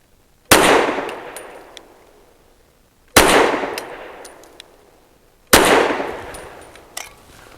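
Fusion Firearms XF Pro pistol firing Hornady American Gunner ammunition from a Daria magazine outdoors: three loud, sharp shots spaced a few seconds apart, each with a ringing decay and faint metallic clinks after.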